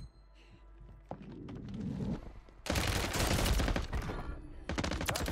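A COR-45 fired in Call of Duty MW3 Warzone, loud rapid bursts starting about halfway through after quieter handling noises, with a short pause before a final burst.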